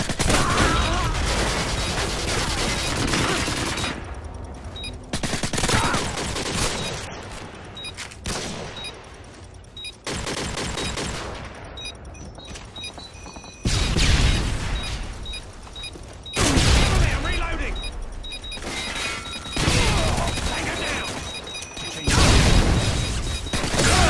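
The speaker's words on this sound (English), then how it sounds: "Tossing stun grenade." A stun grenade and gunfire in the video game MW2 produce repeated loud bursts of shots and crashing blasts, separated by brief quieter gaps across a long, chaotic stretch of combat.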